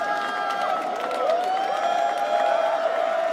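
Esports tournament crowd at EVO 2025 during a Granblue Fantasy Versus Rising match, a steady dense roar of cheering and applause that holds loud throughout, with sustained tonal music-like lines running through it.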